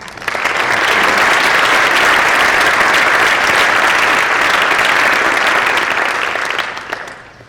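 Audience at a high school National Honors Society induction ceremony claps loudly and continuously, the applause swelling in quickly, holding steady for several seconds, then fading out.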